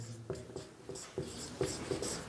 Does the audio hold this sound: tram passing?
no